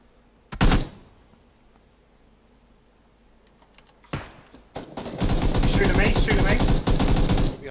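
Gunfire in a PUBG match: a single sharp shot, a quiet stretch with faint clicks, then a thump and a sustained, loud burst of rapid automatic fire near the end.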